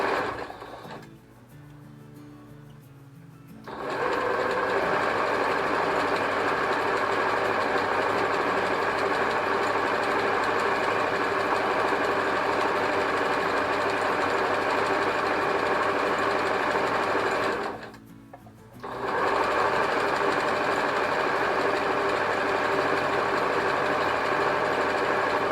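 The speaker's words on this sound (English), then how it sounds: "You always want to back stitch just to lock in your stitching like that." A sewing machine stitches steadily around a circle on a fall home decor project, a loud continuous mechanical whir that stops briefly twice, with quieter pauses near the start and around the eighteen-second mark.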